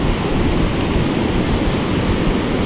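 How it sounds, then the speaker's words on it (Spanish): Sea waves break on the beach at Mar de Ajo, Argentina, as a loud, dense, continuous roar of surf close by, with no pauses and no voices. "Porque levanta olas, más y más."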